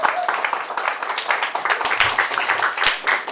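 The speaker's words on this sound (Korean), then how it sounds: "박수 한 번만 더 쳐주세요" An audience at a lecture on the ancient Near East and the Old Testament claps together in a lively, close burst of applause that holds at a steady loud level throughout.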